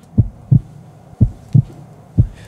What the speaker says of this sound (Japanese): 何ですかこのなんか心臓の鼓動